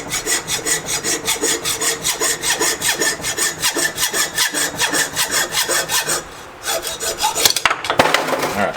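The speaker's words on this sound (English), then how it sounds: "go ahead and started to part this off, and got as far as I could get with that cutter again" Repetitive rasping strokes, close and loud for most of the stretch with a brief pause and some clatter near the end, most likely a cutter parting off a part on a small metal lathe.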